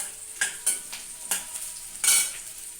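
Tomatoes being sautéed in a pan for sambar, with a few distinct stirring scrapes over a steady soft sizzle, close and moderately loud, no voices.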